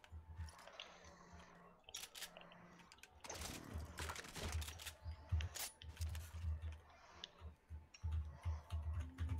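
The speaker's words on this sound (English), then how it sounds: "Are you having fun tapping on your keyboard?" Rapid keyboard tapping during a battle royale game session, a dense run of clicks and ticks close to the microphone, continuing steadily under background game noise.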